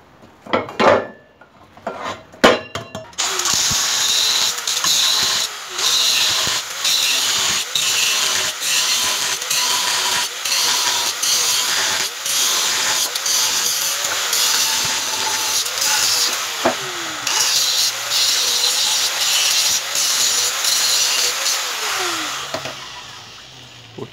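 A blade cuts slowly into the sheet metal of a PCP air tank, producing close, repeated scraping and grinding strokes with a hissy, metallic ring, after a few sharp knocks at the start.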